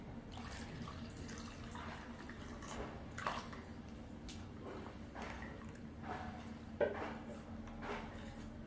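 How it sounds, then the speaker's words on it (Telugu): Water is poured into a vat-dye color mixture for tie and dye fabric work, giving a faint, steady trickling splash that runs throughout with a couple of brief louder splashes and no talking. "ఇప్పుడు మిగతా వాటర్ పోసేయండి."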